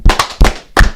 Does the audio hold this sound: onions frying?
no